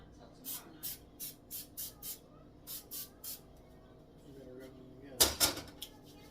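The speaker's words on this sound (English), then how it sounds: "Now I'm going to spray my hands" Non-stick cooking spray is sprayed onto hands in a kitchen while making Rice Krispies pumpkin treats, giving a quick run of about eight short, close hissing bursts followed by clattering kitchen noises.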